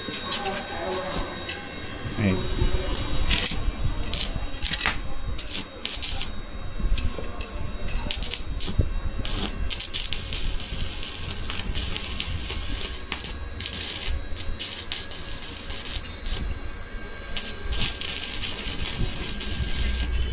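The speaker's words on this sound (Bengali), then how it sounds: "এখন আমরা ওয়েল্ডিং করবো ভাই" An electric welding machine under repair runs a welding test: an irregular crackling, buzzing arc with bursts and sputters, continuing for about twenty seconds alongside a man's intermittent speech.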